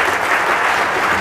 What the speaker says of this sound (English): I didn't expect a round of applause.